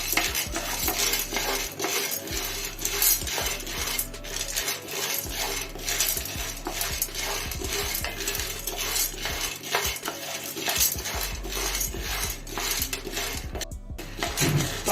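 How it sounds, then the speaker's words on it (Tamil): Roasted gram (pottukadalai) is dry-roasted in a pan, stirred with a utensil that scrapes and clinks against the metal in quick, repeated strokes while the dry lentils rustle, close and fairly loud. "இதுவும் கொஞ்சம் லைட்டா ப்ரௌன் ஆகுற வரைக்கும் வறுக்கணும்."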